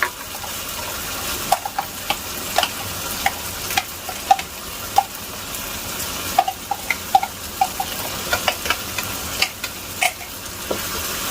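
Penne pasta tossed in pesto sauce in a pan, a steady low sizzle under frequent sharp clinks and scrapes of a spoon stirring against the metal, close up, with no voices.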